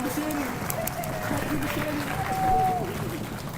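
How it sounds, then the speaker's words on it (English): High school orchestra concertgoers give a standing round of applause for the school administrators, a steady, diffuse crowd clapping that swells slightly midway, with voices and a rising vocal cheer audible through it. "if you guys could stand up and give them a round of applause"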